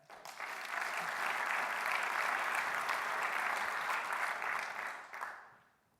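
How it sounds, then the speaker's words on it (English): A round of applause from the audience at a 2017 business plan competition, clapping that builds quickly, holds full and even for about five seconds, then tapers off. "Let's give a round of applause for Craig."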